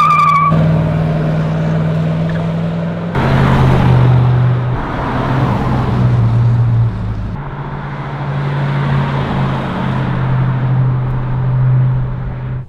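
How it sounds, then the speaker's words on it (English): A 1969 Chevrolet Chevelle SS driving, its loud engine droning steadily at close range with shifts in pitch as gears change, heard alone without talk. "let's get in the car and drive"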